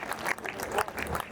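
An audience claps at a kavi sammelan poetry gathering in Baraut, a short burst of brisk applause with uneven, pulsing claps and a faint voice mixed in.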